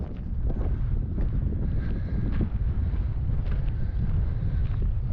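Strong, steady wind on a hilltop in Glen Esk, Scotland roars and buffets the microphone without letup, a low, constant rumble with no voices.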